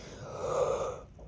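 A person yawns once, a soft, breathy exhale lasting about a second, close and quiet, with no other sounds.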